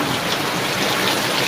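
A short burst of heavy typhoon rain, a loud, even roar of drops with no other sounds.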